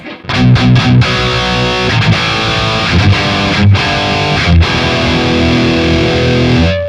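Heavily distorted electric guitar chords ring out loud and sustained, with a few quick muted stops early on, no voices.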